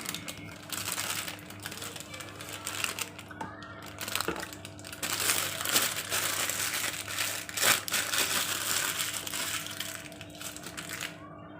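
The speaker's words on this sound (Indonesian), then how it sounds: "Masukkan Nutella ke dalam plastik segitiga yang sudah kita pasang spuit kerang ya." A triangular plastic piping bag fitted with a shell nozzle crinkles steadily as Nutella is spooned in while cookies are topped, with close, continuous rustling and crackling and no speech.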